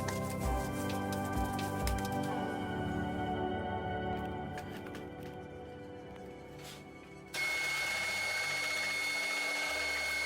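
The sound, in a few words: machine mixing Dalyan meatball stuffing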